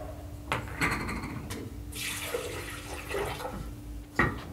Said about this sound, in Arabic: نجيب بقى شويه ميه في الخلاط كده